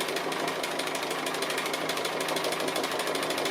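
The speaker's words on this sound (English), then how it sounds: "I'm now going to come up and stitch that" Sewing machine running steadily through free motion stitching on an appliqué piece, a continuous rapid mechanical whir and needle chatter at an even level throughout, with no voices.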